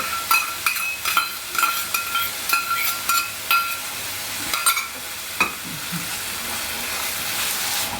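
Curd goes into spices frying in a pan for doi potol, rhythmic stirring scrapes over a sizzle that builds into a steady loud hiss, close by.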